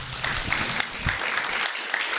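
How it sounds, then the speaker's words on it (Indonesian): A crowd applauds steadily, a dense patter of clapping that stays even throughout, with a few distinct claps standing out. "Mari berikan tepuk tangan."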